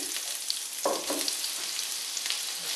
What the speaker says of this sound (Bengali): পেঁয়াজটা হালকা ভেজে নেবো পেঁয়াজটা ভাজা হতে থাক